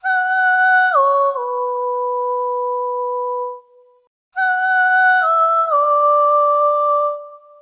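A Voice of Rapture soprano choir sample played in Kontakt: two sustained, pure sung vowels, each stepping down in pitch partway through, with a brief silent gap between them. Smooth and clean with no other sounds.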